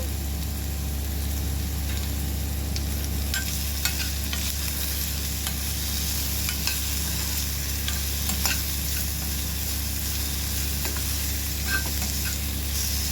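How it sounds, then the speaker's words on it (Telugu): Tamarind, garlic cloves and cumin seeds fry together in a pan for nalleru chutney, giving a steady close sizzle and hiss with occasional light clicks and scrapes of stirring, and no speech. "చింతపండు కూడా దానిలో పెట్టేస్తున్నాను దానిలోనే ఒక ఆరు వెల్లుల్లి గబ్బాలు ఒక స్పూన్ జీలకర్ర కూడా వేసి ఫ్రై చేసుకోవాలండి"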